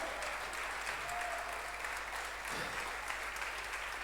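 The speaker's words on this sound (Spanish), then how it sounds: "Vamos a aplaudirle al Rey de Gloria." A church congregation applauds during a Spanish-language sermon, producing a soft, distant and continuous patter of clapping throughout.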